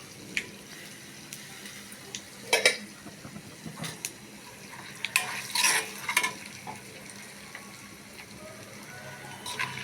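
Chana dal and urad dal with a pinch of asafoetida roasting in a pan, heard as faint dry scraping and stirring with a few sharper rattles, no voices.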